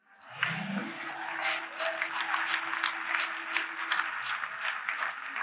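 A church congregation breaks into sustained applause during a sermon, the clapping swelling quickly and holding steady and dense, with a held low tone underneath for the first few seconds.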